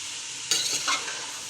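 Cabbage and carrots frying in a pan are stirred with a steady, loud sizzle and hiss, a sharp scrape starting partway through, close by with no talking.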